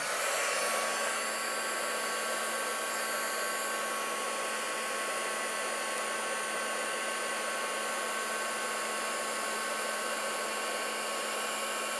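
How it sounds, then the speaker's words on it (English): A heat tool blows a steady, loud, continuous whir with a faint high whine while melting embossing powder on a die-cut paper doily craft, with no talking. "let's do some heating to melt that embossing powder"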